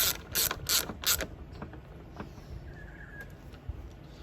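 A ratchet wrench tightens the negative battery terminal nut on a Toyota LandCruiser 100/105 Series, giving four quick, loud bursts of clicking in the first second, followed by quieter faint mechanical ticks.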